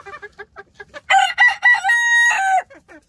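A Light Brahma rooster crows one loud, drawn-out call close by among hens, with soft clucking before and after it.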